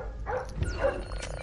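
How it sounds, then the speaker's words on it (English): A dog in the stealth video game Splinter Cell Blacklist gives a couple of quick, moderately close barks against low game ambience. "there's a dog."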